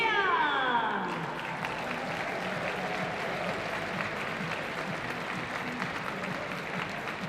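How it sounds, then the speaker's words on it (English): A crowd cheers and applauds the race champions at the London 3 Day cycling grand final, a dense continuous clapping wash after a brief opening whoop or whistle, sustained and fairly distant throughout. "Let's hear a massive cheer!"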